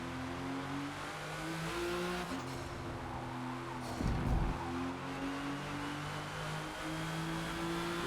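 The engine of a 1998 Porsche GT1 race car in the Forza Motorsport game at Hockenheim drones steadily with sustained harmonic tones, rising and falling through gear shifts, with a brief rough burst midway.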